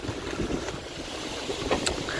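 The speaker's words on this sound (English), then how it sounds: "I'm just hiding here as that particular burst of wind" A gust of wind blowing across a grass-banked football ground, a steady roaring buffet against the microphone with faint rustles, loud and close throughout.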